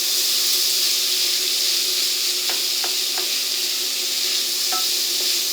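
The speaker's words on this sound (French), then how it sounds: "on va les mélanger un petit peu avec le beurre et l'huile" Peas frying in butter and oil in a pan while being stirred, a steady close sizzle and hiss with a few brief scraping clicks.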